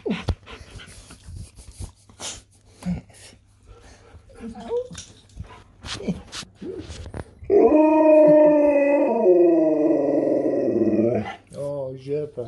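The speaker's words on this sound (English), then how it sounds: "You can howl now." A dog lets out one long, sustained, wavering howl, loud and close, after a stretch of people talking softly with faint whines and pants in a house on holiday.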